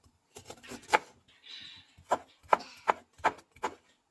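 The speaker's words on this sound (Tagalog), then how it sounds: "So, mag-iwa tayo ng luya." Knife slicing fresh ginger on a cutting board, a series of sharp close chops in an uneven rhythm with a short scraping sound in between.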